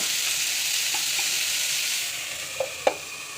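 Bitter gourd frying with small shrimp in a pan gives a steady, broad sizzle throughout, with a couple of faint clinks near the end.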